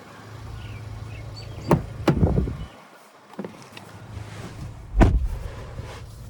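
A 2024 Chevrolet Colorado Z71 pickup's driver door clunks open and thuds shut, with rustling and a seat creak in between, then a second solid door slam; a faint engine hum runs underneath.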